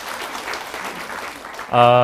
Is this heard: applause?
yes